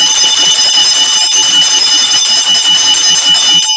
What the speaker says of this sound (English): just pick up the bell and start ringing